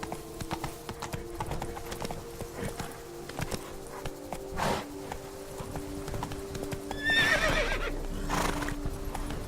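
Roach, a horse in The Witcher 3: Blood and Wine, clops along on hooves in a steady rhythm, then lets out a loud, quavering whinny near the end.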